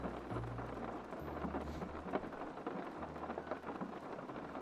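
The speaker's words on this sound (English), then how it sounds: "Is the rain too loud, Glue?" Steady rain patters continuously, with low rolls of thunder rumbling underneath, quiet and even throughout with no voices.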